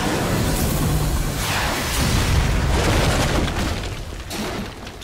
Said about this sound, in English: That was a pretty controlled explosion from those missiles.